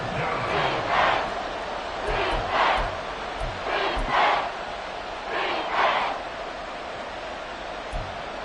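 Stadium crowd at an American football game roars in repeated swelling surges, a broad wash of cheering rising and falling in waves with a constant murmur underneath.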